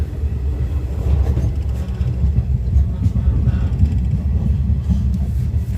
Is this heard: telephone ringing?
no